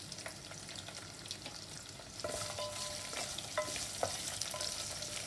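Onions, garlic, fresh red chili and curry leaves sputter in hot oil for a South Indian fish curry, a dense crackling sizzle that grows louder midway, punctuated by quick popping bursts and stirring scrapes.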